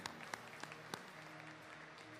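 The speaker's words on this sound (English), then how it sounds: "let's give a big round of applause to all of the players that have made it, the coaching staff and support staff" Audience applause for lacrosse players and coaching and support staff at the Founders Cup opening ceremonies, a steady wash of clapping with a few sharper individual claps standing out, heard from a distance and fairly quiet.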